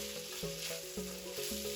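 Bacon sizzling in a dry hot pan, a soft steady hiss with a few faint clinks and scrapes, quiet and brief.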